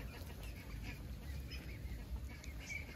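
Ducks quacking in a low, busy chorus, a steady murmur of calls close by with no clear pauses.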